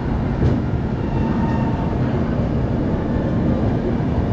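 Inside the Howrah Jodhpur Superfast Express (12307) while it runs, a steady loud low rumble and rattle of the moving carriage fills the space without pause or voices.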